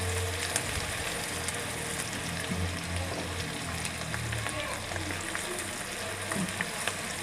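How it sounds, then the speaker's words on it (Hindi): Onions frying in a pan until golden brown for a Punjabi chicken gravy, a steady close sizzle and crackle holding at an even level throughout, with no break in the hiss. "और इसे गोल्डन ब्राउन कर लें प्याज को।"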